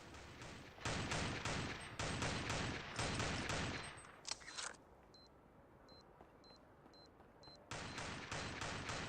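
Gunfire in the Counter-Strike video game on the original Xbox: rapid automatic bursts in several loud stretches, broken by a quiet pause with faint electronic beeps before the shooting resumes.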